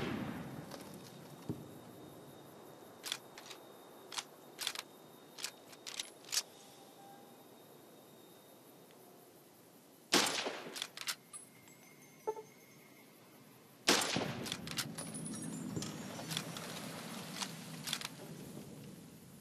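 Sharp gunshots in Fallout: New Vegas striking a gecko, a burst of separate loud cracks early, then two heavier clusters of shots later, with background ambience between volleys.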